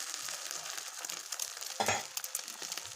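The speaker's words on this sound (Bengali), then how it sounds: "তো রুটিটা শিখে নিয়ে একটা ডিম ফেটে দিয়ে দিচ্ছি।" Egg frying in a pan for an egg roll, a soft steady sizzle that keeps going, with a brief louder clatter midway.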